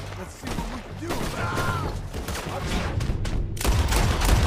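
Semi-automatic pistol fire in the video game Red Dead Redemption 2, a burst of several sharp shots close together over a busy, noisy game mix with a voice talking beneath.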